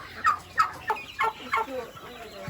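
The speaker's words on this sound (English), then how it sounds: "Move, chicken." A black-and-brown chicken clucks and gobbles nearby in a yard, five or six short, evenly spaced calls over a quiet background, with no talk.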